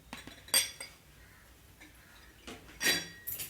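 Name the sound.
stirring ragi vermicelli with sugar and cardamom in pan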